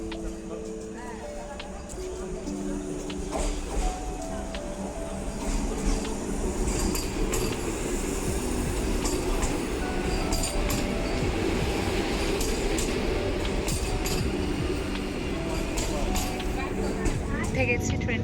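Vande Bharat Express train arriving at a station, its rumble and rolling wheels swelling into a loud, steady rush with faint squeals, while people talk nearby.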